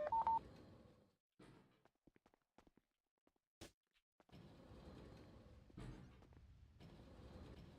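Telephone keypad tones sound in a few short beeps at the very start, followed by bursts of shuffling, footsteps and noise in a quiet space with no talking.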